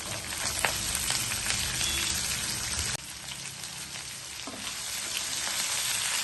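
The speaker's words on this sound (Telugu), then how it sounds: "ఉల్లిపాయ ముక్కలన్నీ ఇలా సమానంగా కలిపేసుకొని" Onion pieces frying in a pan make a dense, continuous sizzle, briefly dipping midway as they are mixed, then carrying on at the same steady level.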